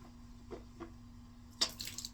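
Gentle spitting of rinse water after a tooth extraction: a couple of soft wet sounds followed by a clearer splash and drips, quiet and close.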